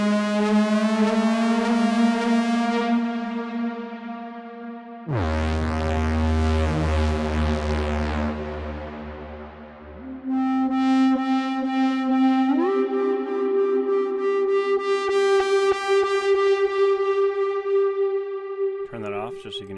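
Aggressive synth bass and lead tones pushed through distortion and effects, with a buzzy, harmonically rich sustained line that drops to a heavy low bass section, then returns as a gritty lead with pitch steps, loud and continuous with no talking.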